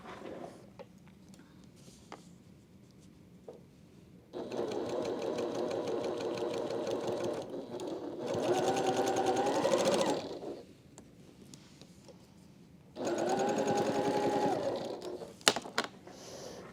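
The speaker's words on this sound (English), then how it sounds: "I'm going to sew the other side before we press" A sewing machine stitches a quilt seam in two steady, fast-whirring runs of several seconds each, separated by quieter pauses with light handling clicks, close and fairly loud.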